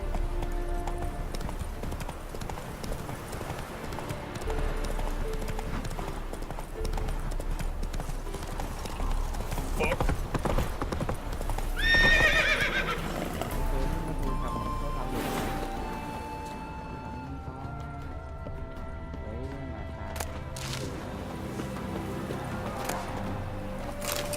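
Roach the horse from The Witcher 3 galloping, a continuous rapid clip-clop of hooves with game ambience and a brief whinny-like burst partway through, running steadily throughout.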